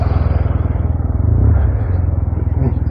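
A Yamaha T-MAX motor scooter engine drones steadily while riding through traffic on Thasos, Greece. A low, continuous rumble pulses evenly throughout with no talk on top.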